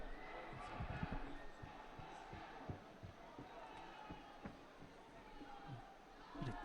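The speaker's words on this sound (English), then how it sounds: "Bit of cheering in the background from a group of Mongolians up in the stands there, getting into it in support of their fighter" Mongolian fans in the stands of a judo hall at the Paris Grand Slam cheer for their fighter, a faint crowd murmur with scattered shouts under commentary and thuds from the mat.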